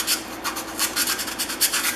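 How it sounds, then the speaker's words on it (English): Steady raspy rubbing of an abrasive sanding stick on the wooden throat of a hand plane, quick repeated back-and-forth strokes close up, with no voices. "I can go around the throat and clean that up also with my sanding stick."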